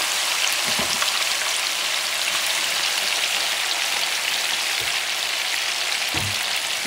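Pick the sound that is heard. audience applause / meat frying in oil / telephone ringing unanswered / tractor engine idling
meat frying in oil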